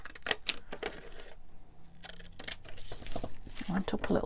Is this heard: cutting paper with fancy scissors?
yes